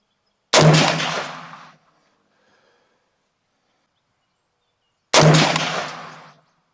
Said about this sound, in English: this time we're going to shoot a 3-shot group with my reloads